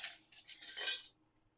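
Ball canning jar lids rattle and clink together briefly as they are picked up, a quiet metallic jingle lasting about a second before fading to near silence.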